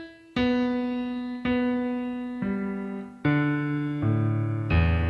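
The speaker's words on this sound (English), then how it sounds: "I'm just playing the piano inside the KETRON at the moment using this." Sampled piano from a KETRON sound module, triggered from a guitar controller: six separate sustained notes and chords struck about once a second, each ringing and slowly decaying, clear and close with no voices.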